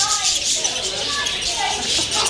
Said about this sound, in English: You like the birds, Alexander?